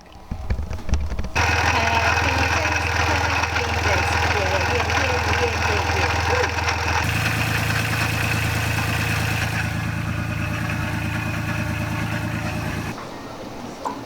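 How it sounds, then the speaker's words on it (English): A boat engine runs steadily at idle for several seconds with a constant low drone and rhythmic chugging, loud and close, then cuts down near the end. "It's a good accomplishment to get the engine going again."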